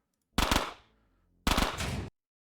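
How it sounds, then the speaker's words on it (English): An SMG in the video game Quasimorph fires two short, rapid bursts about a second apart, each a crisp rattle of closely spaced shots, with silence between and after. "So I swap to my SMG and I put it in burst mode"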